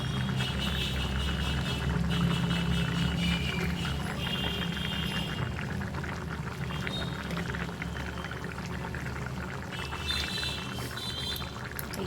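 Ghee poured into a simmering potato, pointed gourd and pumpkin curry in a pan, giving a steady, close sizzle and pour that runs throughout with no talking.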